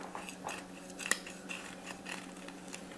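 A knife cuts through a loaf of rum raisin banana bread, giving soft, close crunchy scraping strokes in an irregular rhythm, with one sharper click partway through and no voices.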